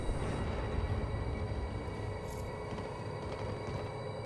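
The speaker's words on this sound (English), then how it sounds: "You know, I could just ride this train out of here." Train rumbling in the video game Quantum Break, a continuous dense low roar with steady rolling noise and a faint high whine, even in loudness throughout with no speech.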